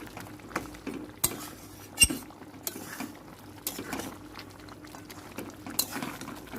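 Chicken curry spiced with garam masala bubbles in a pot while a spoon stirs it, with several sharp metal clinks against the pot's rim and a soft simmering underneath.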